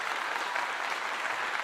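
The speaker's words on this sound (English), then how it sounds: "Let's give it a clap." A crowd at a sports event claps in a brief, dense, steady burst of applause lasting under two seconds.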